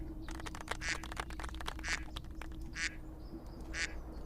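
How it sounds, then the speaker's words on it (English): Duck quacks from a Discord soundboard repeat about once a second, four quick nasal quacks in all, heard faintly over a low steady hum. "I keep hearing that duck quack."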